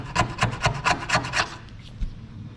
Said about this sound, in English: If you take a screwdriver and just go like this